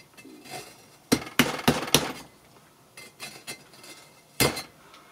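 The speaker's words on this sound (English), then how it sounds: "all we want to do is just slowly work the chisel down" A chisel worked down through a soft kiln insulating brick, a series of close, sharp tapping strikes in uneven clusters with short scraping crumbles between them.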